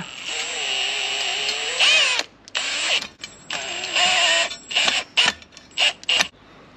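A power drill drives a self-drilling screw with a washer into metal during home renovation, whining loudly for about two seconds, then running in several shorter bursts with brief pauses between them.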